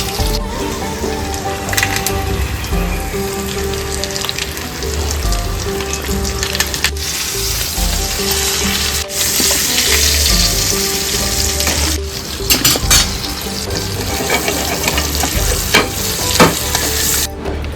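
Pomfret and mackerel fry in a hot pan with a steady, loud sizzle and crackle that runs the whole time, with occasional sharper pops and scraping stirs, and no voices.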